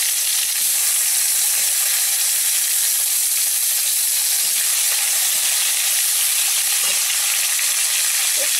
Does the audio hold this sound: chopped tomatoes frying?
yes